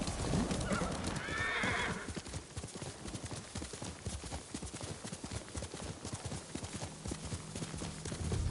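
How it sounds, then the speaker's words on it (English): A horse in the video game Ghost of Tsushima neighs loudly, then gallops with rapid, steady hoofbeats that run on under a continuous game ambience. "One thing I gotta master is calling my horse at the right time."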